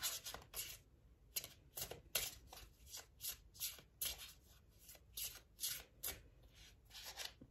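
Ascended masters oracle cards being shuffled by hand, a close, steady run of crisp riffling bursts repeating in a quick rhythm, with no talking.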